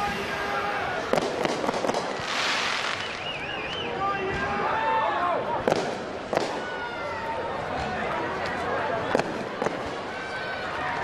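Fireworks go off at an end-of-year tennis championship trophy ceremony as confetti is shot into the crowd, with scattered sharp bangs and crackles over a continuous roar of crowd noise and babble.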